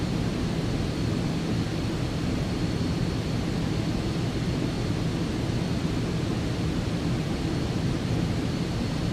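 An aircraft in Microsoft Flight Simulator flies low over treetops near a runway, its engine a constant loud broadband roar that holds steady without letup, with no voices.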